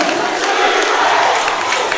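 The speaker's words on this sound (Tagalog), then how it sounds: "we can hear the crowd start from Rizal" A basketball crowd cheers for Rizal in a dense, loud roar of many voices, sustained and unbroken throughout.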